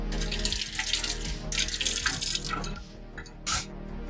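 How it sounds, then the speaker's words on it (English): A kitchen tap runs steadily as hands are rinsed beneath it, with water splashing and gurgling in the sink and the flow changing as the hands move, no talk. "now I'm just gonna rinse my hands off here."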